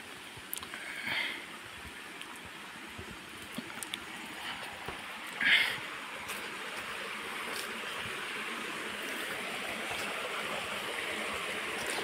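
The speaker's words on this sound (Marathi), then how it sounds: "त्या पुलाकडनं असं पाणी आणलेलं आहे इकडे." A stone-lined channel carries a Konkan stream, giving a faint, steady rushing and trickling flow throughout, with one brief louder splash partway through.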